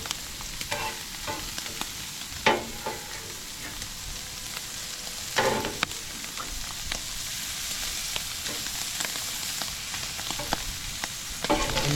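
Shrimp sizzle and fry in a hot pan at a campsite in San Felipe, Mexico, a steady crackling hiss with occasional louder spatters and stirring clatters, close and continuous.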